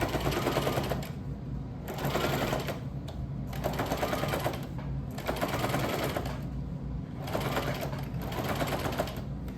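Sewing machine stitching fabric in rapid bursts, a loud mechanical rattle running for about two seconds at a time with short pauses between runs.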